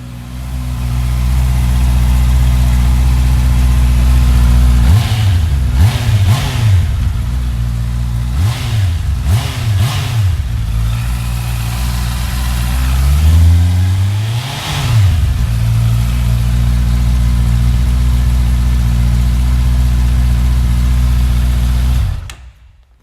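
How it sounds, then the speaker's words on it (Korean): A Honda CBR650R / CB650R middleweight motorcycle idles loudly up close, then its exhaust is revved several times in sharp bursts and settles back to a steady idle before cutting off. "자, 배기음을 들려드리도록 할게요."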